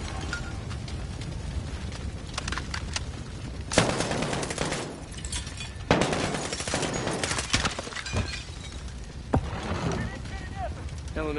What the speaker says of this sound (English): What the hell are you shooting?